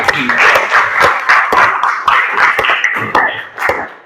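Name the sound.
class applause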